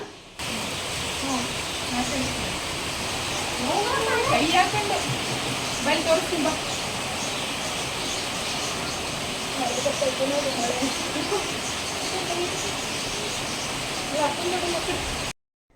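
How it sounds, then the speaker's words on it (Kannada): Steady rain falls outdoors as a dense, even hiss throughout, while a person talks over it. "ಸೊ ಮಳೆ ತೋರಿಸ್ತೀನಿ ಬನ್ನಿ ಒಂದ್ಸರಿ."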